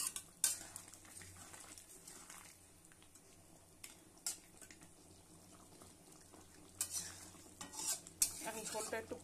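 Pieces of aar fish go into a simmering curry with potatoes in a pan, bringing soft sizzling and bubbling along with a few sharp clinks and scrapes of a utensil, all fairly quiet and close.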